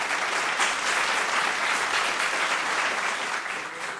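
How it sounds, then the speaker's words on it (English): A quiz show audience applauds the contestants with a dense, steady roar of clapping that holds evenly and eases off slightly near the end. "A round of applause for them too."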